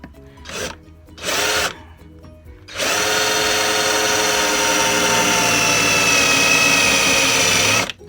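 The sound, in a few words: power drill drilling metal bracket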